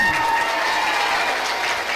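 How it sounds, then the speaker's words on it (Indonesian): Loud, dense applause from an audience at a live event, steady and sustained throughout with no pauses or voices standing out. "tepuk tangan yang meriah semuanya"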